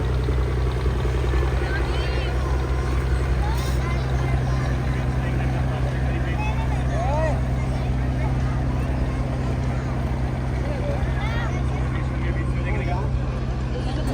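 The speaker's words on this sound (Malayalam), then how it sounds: "ഇത് അടുത്തൊരു ബോട്ട് ഇവിടുന്ന് പോവുകയാണ്." A boat pulls away from the jetty at the Gateway of India, its steady engine drone and low hum running continuously through the scene alongside harbour ambience and people talking nearby.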